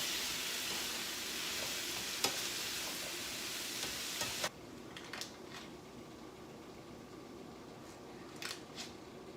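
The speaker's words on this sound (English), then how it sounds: "Let me turn it down just a smidge so that I can coat my vegetables with olive oil" Vegetables sizzle in a pan with olive oil and butter, a steady frying hiss that drops sharply quieter partway through, with a few light clicks and taps over the softer sizzle.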